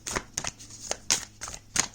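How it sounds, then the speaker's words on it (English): A deck of cards being shuffled, several quick crisp riffling bursts separated by short pauses, close and fairly loud with no talking. "So I shuffle the deck."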